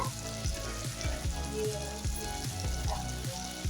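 Tomatoes frying in a pan while cooking bitter gourd gojju, a steady soft sizzle running throughout under a rhythmic background beat.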